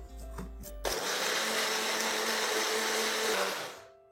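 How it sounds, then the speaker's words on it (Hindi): A kitchen blender grinds coriander and green chillies with a little water, starting abruptly and running loud and steady for about three seconds before winding down. "यहाँ पे धनिया और हरी मिर्चों को भी पीस लेते हैं।"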